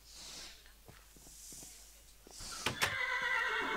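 A horse from the Mo Creatures mod for Minecraft whinnies loudly near the end in a shrill, wavering neigh, after quieter game sounds and soft footsteps.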